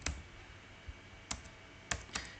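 A handful of separate computer keyboard keystrokes, including an Enter press, sound crisp and close with short gaps between them, alone in a quiet room.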